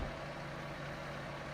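Tractor engine idling in Farming Simulator 25, a steady low drone with a constant hum, loud and close, running unchanged throughout with no talk.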